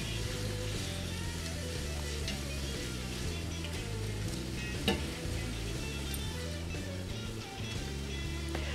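Onion, garlic and coriander frying in a pan and being stirred, with a continuous soft sizzle and occasional scrape of the utensil under background music.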